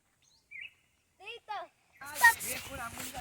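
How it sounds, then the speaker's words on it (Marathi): Birds calling in the Konkan countryside after rain: a few short, separate chirps and whistles at moderate distance, then a denser, busier burst of calls and other sound in the last second. "पाऊस पडलाय ना तर त्याच्यामुळे खूप पक्षी ओरडतात."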